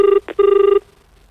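A telephone rings loudly and close by in two electronic bursts with a brief gap between them, then stops.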